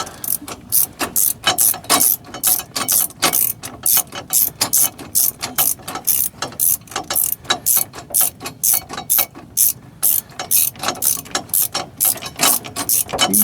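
A ratchet tightens bolts on a Brunswick GSX bowling pinsetter, producing loud, close, rapid clicking in steady back-and-forth strokes that keep going for over thirteen seconds with no pauses and no talk.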